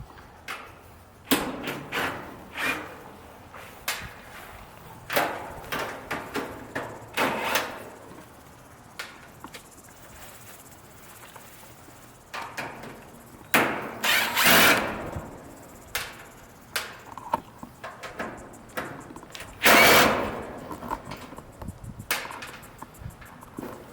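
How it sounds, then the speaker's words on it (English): A power drill fitted with an 8mm bit backs screws out of the cover of an AC unit. Short bursts of whirring are mixed with clicks and knocks from handling, and two louder, longer spins stand out near the end. "So I'm going to take my power drill with a 8mm bit on the end, and we're going to remove these 4 screws."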